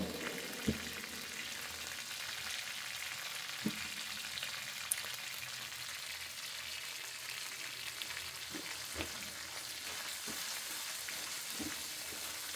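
Whole cumin seeds fry in hot oil in a pan, a steady soft sizzle and crackle that runs throughout, with a few sharp pops and clinks spaced through it.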